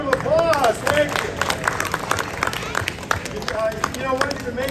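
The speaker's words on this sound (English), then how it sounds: "Give her a round of applause." An audience gives a round of applause at a science show, with scattered clapping under lively voices and crowd chatter throughout.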